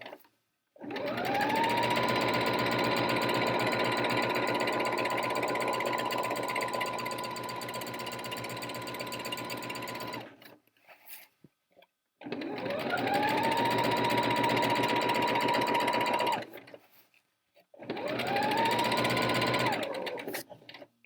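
Sewing machine running fast while stitching a blouse seam, a steady rapid mechanical whirr in three long runs separated by short pauses, close and prominent.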